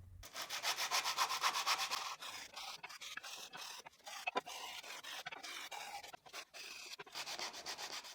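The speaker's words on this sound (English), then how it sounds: "With 120 grit sandpaper and a piece of wood, I will clean the cut." Wood being sanded by hand with 120 grit sandpaper to clean a cut, a steady rhythmic rubbing with quick back-and-forth strokes, close and fairly quiet, pausing midway for irregular scrapes before the even strokes resume.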